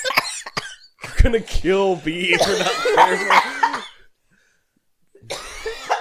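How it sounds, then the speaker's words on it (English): Person coughing in short repeated bursts, close to the recording device, mixed with talking and a laugh, then a few seconds of silence before more voice. "having trouble trying not to cough and recording"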